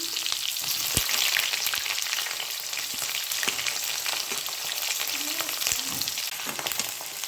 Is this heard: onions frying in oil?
yes